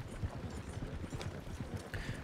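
Faint hoofbeats clip-clop steadily under a low rumble as a horse drags a man caught by the stirrup in Red Dead Redemption 2.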